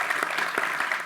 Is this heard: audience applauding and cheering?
yes